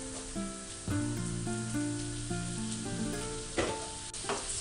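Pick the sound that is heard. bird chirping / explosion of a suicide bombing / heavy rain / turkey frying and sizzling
turkey frying and sizzling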